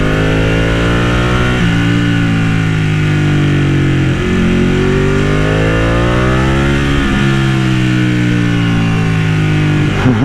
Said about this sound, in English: the sound of that V-twin, jeez.